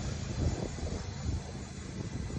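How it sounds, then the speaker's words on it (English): At an airport with private jets nearby, a steady, low aircraft engine roar drones at a moderate distance, a continuous hum with faint wind and no speech. "I would say right here, we at the airport."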